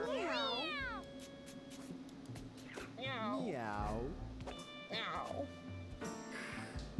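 Cartoon cats in the video game Mewgenics meow over and over, with rising and falling calls spread through the stretch over a steady hum of game music, and other game effects chime in between the meows.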